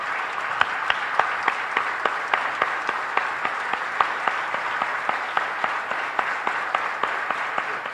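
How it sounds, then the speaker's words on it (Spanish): Steady applause from an audience honoring a tribute, with many overlapping claps forming a dense, sustained wash and a few sharper individual claps standing out, no talking. "yo les pido que le demos un fuerte aplauso a Carlos Vargas, a su legado, a su pueblo y a su gente"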